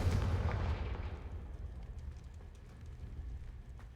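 A Confringo fire spell blasts in Hogwarts Legacy, a single booming explosive burst at the start that decays into a low rumbling tail over several seconds, with no talking.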